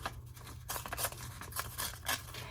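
Craft paper is torn by hand into smaller pieces: quiet, brief ripping strokes repeat unevenly, close by, with no voices.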